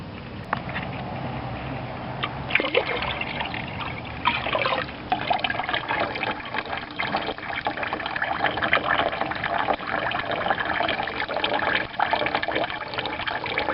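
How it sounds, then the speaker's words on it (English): Water trickling and dribbling through a standing drain between plastic aquaponic fish totes, a steady close-up flow with small splashes and gurgles, continuous and fairly quiet. "set up a standing drain that pulls water from the very bottom to this point here, where it'll empty into the next drain"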